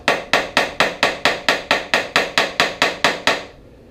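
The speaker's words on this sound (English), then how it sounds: "I'll take a small hammer and upset these threads a little bit." A small hammer strikes metal in a steady, even rhythm, about a dozen sharp ringing taps in quick succession peening bolt threads, then stops, leaving a faint hum.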